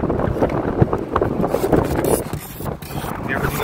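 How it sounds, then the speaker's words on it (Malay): Strong wind buffets the microphone on the Penang Bridge during a fishing outing, a loud, steady roar with gusts throughout. "Angin kuat ni geng."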